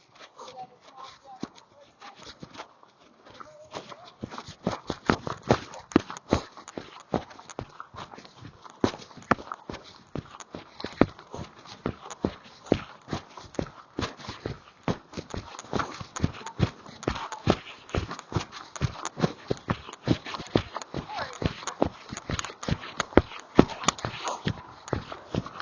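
Horse hooves during a riding lesson, a brisk rhythmic clip-clop of steady footfalls that starts after a few quiet seconds and continues throughout, with occasional soft voices.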